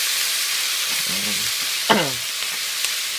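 Marinated pork stir-frying with cabbage in a hot pan, a steady loud sizzle throughout, with a few scraping stirs and clinks of the utensil against the pan partway through.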